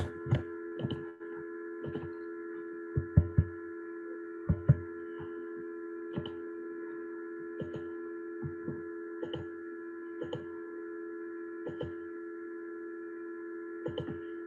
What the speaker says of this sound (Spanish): se encendió el ventilador del equipo y se escucha un ruido terrible